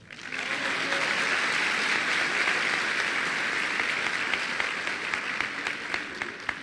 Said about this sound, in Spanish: Y también un gran aplauso para nuestro senador Juan Antonio Coloma.